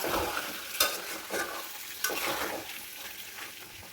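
Chicken and potatoes sautéed together for biryani, with a spoon scraping and turning them in a pot over steady frying sizzle, several clear stirring strokes close up, no voices.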